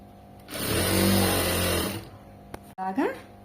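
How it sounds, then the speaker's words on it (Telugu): Electric sewing machine stitching cloth, a loud close whirring run of about a second and a half that stops, followed by a click and someone speaking briefly. "ఇంత సౌండ్ వస్తుంది ఏంటక్క మిషన్ అని"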